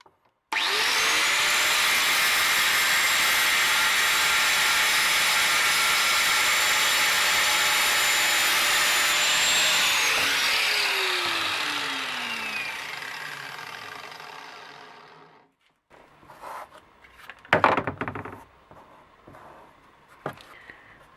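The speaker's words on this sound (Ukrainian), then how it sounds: "А зараз зімітую іскри від булгарки." An angle grinder throws sparks onto a car cover tarp during a fire test. It gives a loud, steady, close whine for about fifteen seconds, then winds down, followed by a few scattered clatters and knocks.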